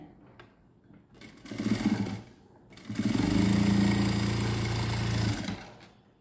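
A sewing machine stitches chudidar lining fabric in two runs, a short burst followed by a longer steady whir, both close and loud.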